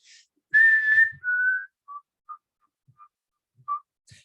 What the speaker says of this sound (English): They have a beautiful song that's whistled